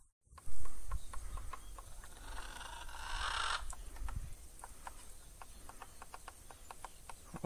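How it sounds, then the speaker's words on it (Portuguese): A woodpecker drums on a tree in the open, heard as short, sharp taps spaced through the clip over a soft outdoor background, fairly faint and at a distance. "Olha o batuque. Olha o pica-pau aqui na árvore."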